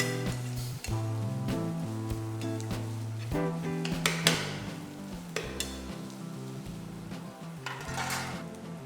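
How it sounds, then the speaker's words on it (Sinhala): Carrots being stirred into an egg and onion mixture in a pan for koththu, with steady clinks and scrapes of a utensil against the pan while music plays throughout. "ඊළඟට අපේ බිත්තර සුදු ලූණු මික්ස් එකත් එක්ක කැරට් ටිකත් මික්ස් කරගන්න"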